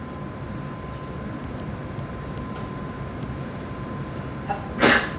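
A single sharp sneeze bursts out near the end, after a stretch of quiet room hum.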